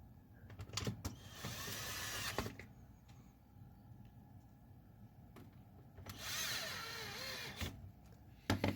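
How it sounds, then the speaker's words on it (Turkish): A cordless screwdriver, running on a laptop battery, drives screws while a homemade stick vacuum is assembled: two whirring motor bursts, one short and one longer, among quiet handling clicks and knocks, all fairly faint. "Yine bu laptop bataryasıyla çalışan şarjlı vidalamamı kullanıyorum."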